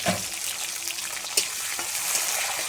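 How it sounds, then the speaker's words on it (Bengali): Onions and garlic, with dried red chillies, fry in a pan as a steady sizzle that runs throughout, alongside occasional soft stirring scrapes and a brief clatter near the middle. "পেঁয়াজ না পেঁয়াজ সব কিছু দিয়ে এখন ভেজে নিচ্ছি সুন্দর করে"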